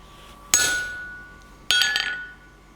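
A hammer strikes a hot chisel cutting into a forged metal bar, two loud ringing metallic blows about a second apart, each decaying slowly, close and without talk.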